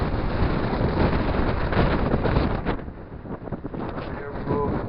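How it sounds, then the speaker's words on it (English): Strong wind roars and buffets inside an old abandoned lime kiln building in Scotland, a loud broadband rush that dips briefly and then surges again. "The wind blowing through this next section here is immense."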